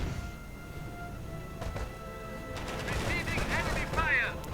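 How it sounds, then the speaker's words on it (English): Calliope rocket barrage in a WWII strategy game, a rapid cluster of whooshing launches and crackling blasts building over a rumbling battlefield background, moderately loud with no talk. "Another Calliope barrage."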